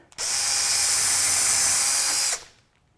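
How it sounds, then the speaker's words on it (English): A power drill with a self-centering bit bores pilot holes for hinge screws. It makes one sustained high whine of about two seconds, close and loud, then spins down. "I'm going to use a self-centering drill bit to drill the pilot holes for the screws"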